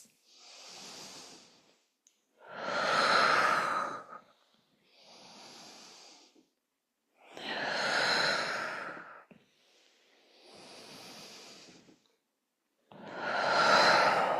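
Slow, deep breaths during a guided breathing practice: long loud inhales and exhales alternate with softer breaths, close and unhurried, with pauses of silence between them.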